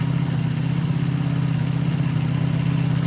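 A Ducati V2 motorcycle engine runs through its stock exhaust with a steady, strong low throb, holding a constant pitch close by with no talk over it.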